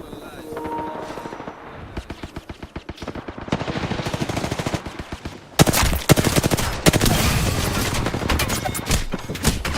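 Rapid bursts of automatic gunfire from a video game, sparse at first and then turning into a dense, continuous loud fusillade, with a voice shouting over it now and then.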